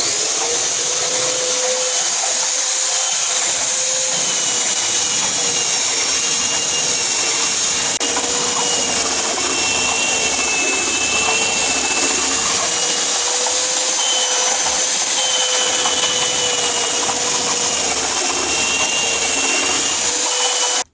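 A drill powering a homemade oscillating spindle sander whines continuously up close, a steady high-pitched motor drone with a sanding hiss, running without pause and no voices.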